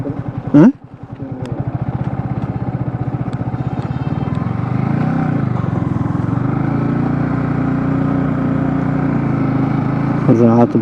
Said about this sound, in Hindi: रात भर बाइक चलानी पड़ी।